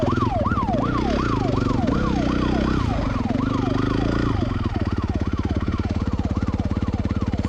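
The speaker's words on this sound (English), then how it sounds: "I keep hearing the sirens" Police sirens wail loudly and continuously in a fast rising-and-falling cycle during a chase after dirt bikers, over a heavy engine rumble that turns to a rapid throbbing in the second half.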